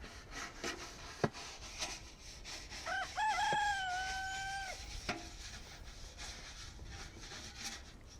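A rooster crows once in a chicken coop, a clear mid-loud call rising and holding, with light scratching and wooden rubbing around it and soft clucks in the quiet background.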